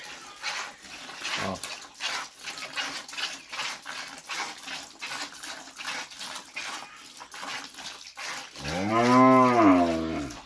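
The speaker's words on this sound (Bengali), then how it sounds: "এই যে দেখুন, এই যে দুধ দোহাচ্ছে।" A cow is milked by hand, with rhythmic squirts of milk striking a pail in a quick, regular pulse, followed near the end by a single loud, close moo.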